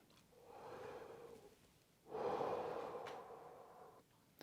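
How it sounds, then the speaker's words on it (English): Two slow, warm, relaxed breaths from a trombone player, each a soft airy rush, the second fuller and longer, close and quiet with nothing else around. "So warm, relaxed breath."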